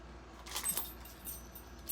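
Keys jangle inside a small Louis Vuitton pochette in clay, a few soft metallic rustles and clinks rising and falling over about two seconds, close and fairly quiet.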